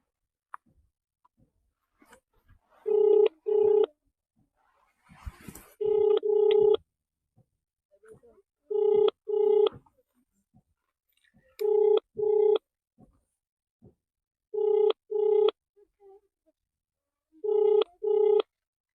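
Telephone handset dialing officials, with a faint click and short tone burst before repeated double-pulse ringback tones sounding at regular intervals, clear and isolated against near silence.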